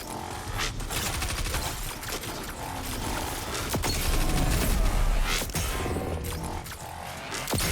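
Vex Mythoclast linear fusion rifle firing in Destiny, overcharged shots cracking out amid dense combat clatter and crashing impacts, loud and busy for several seconds without speech.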